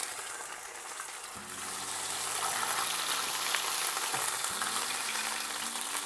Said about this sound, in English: put it in the chile, and fry them.